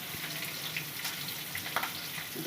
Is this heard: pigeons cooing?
no